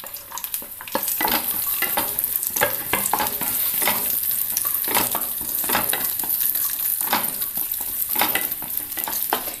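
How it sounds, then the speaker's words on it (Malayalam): Cashews and raisins frying in ghee while being stirred, a dense continuous sizzle with repeated scraping and clicking stirs, loud and close throughout. "കാഷ്യൂനട്ടിൻ്റെ കളറൊന്ന് മാറി വരുന്ന അന്നേരം കിസ്മിസ് ഇട്ട് കൊടുക്കുക."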